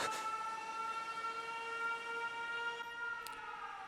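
A steady, wailing air raid siren sounds in the video game 13 Sentinels: Aegis Rim, held tones droning at moderate distance over a quiet background for the full few seconds.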